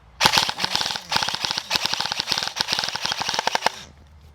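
Lancer Tactical PPK20 airsoft AEG firing in semi-auto: a fast, steady string of sharp mechanical cracks, close and loud, lasting about three and a half seconds, then a short quiet tail.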